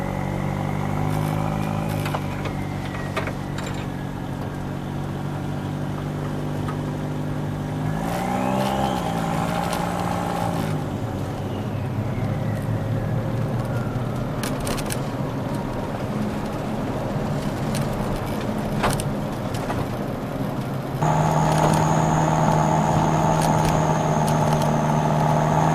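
A cold turbocharged budget-build car engine with no idle air control runs rough at idle and nearly stalls, its low hum wavering and dipping before a couple of revs lift it. It sounds close and steady, with no talking.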